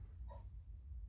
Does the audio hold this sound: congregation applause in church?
no